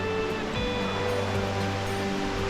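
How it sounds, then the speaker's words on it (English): Distant waterfall at El Questro Station along the Gibb River Road, heard as a steady, even rush of falling water that holds unbroken throughout, far off and soft. "And there's the waterfall up in the distance."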